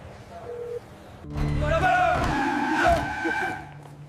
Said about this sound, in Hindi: बाहर गाड़ियों की आवाज सुनकर सब सीधे खड़े हो गए हैं,